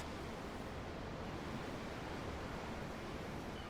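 A soft, continuous wash of ocean waves in Tales of Arise, heard as a faint, even broadband surf with no distinct breaks and no talking.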